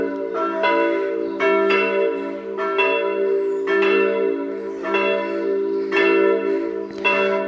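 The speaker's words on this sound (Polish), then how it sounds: "Słychać dzwony." Bells of the parish church in Głogówek, near the market square, ring before Mass, loud and steady with regular repeated strikes and a sustained resonant hum, no voices.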